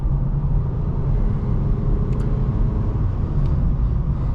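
A 2007 Honda Civic LX drives along back roads, with a steady, loud low road rumble and engine drone from inside the cabin and no voices.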